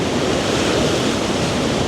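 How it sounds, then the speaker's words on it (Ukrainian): Stormy sea waves at a Bulgarian beach resort in Sveti Vlas roar as a constant, dense wash of surf mixed with wind buffeting the microphone, loud and unbroken throughout. "Почався шторм. Нормальні такі хвилі."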